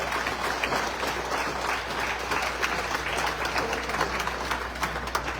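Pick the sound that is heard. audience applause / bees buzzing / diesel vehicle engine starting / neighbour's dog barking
audience applause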